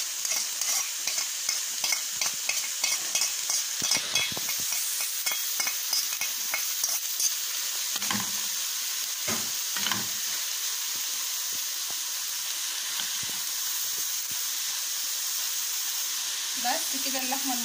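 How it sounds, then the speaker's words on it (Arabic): Minced onion sizzles and fries in a hot pan for a samosa meat filling, a constant bright hiss with scraping stir strokes, rhythmic at first and sparser later. "هنزل بالبصلاية المفرومة"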